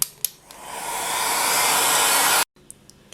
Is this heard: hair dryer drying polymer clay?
yes